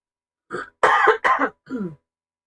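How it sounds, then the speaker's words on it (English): Four harsh coughs in quick succession, close and fairly loud, the first short and the rest heavier, with brief pauses between. "sorry about this cough"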